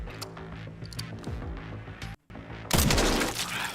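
Rapid gunfire from a survival-horror game, Resident Evil Requiem, with clustered shots and booms against a busy background, a brief dropout, then a louder, denser burst at the end.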